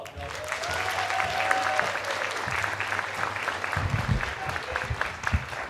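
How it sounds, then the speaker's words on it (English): An audience at a juvenile sentencing reform event gives a sustained round of applause, dense steady clapping from many hands with a few cheers and scattered voices, continuing for several seconds. "Let's give them another round of applause"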